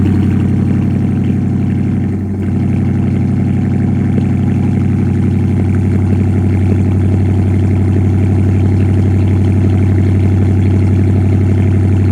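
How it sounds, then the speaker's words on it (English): A car engine idles steadily while warming up in the morning, a loud, close, constant low hum with no revving and no talk. "So right now I'm currently warming up the car."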